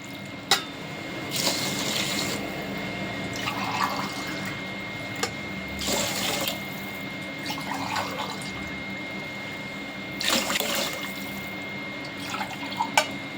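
Water pours and splashes into a pot of rice in several short bursts, with quiet pauses between them.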